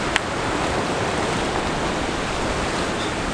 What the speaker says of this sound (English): they're quite dynamic and breaking around the rocks